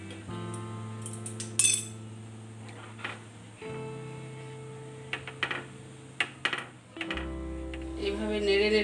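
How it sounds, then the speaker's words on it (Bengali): A spoon stirs boiled milk in a pot to cool it for homemade sweet yogurt, making irregular metallic clinks and scrapes, some sharp and close, over a steady tonal background hum. "এইভাবে নেড়ে নেড়ে একটু ঠান্ডা করতে হবে।"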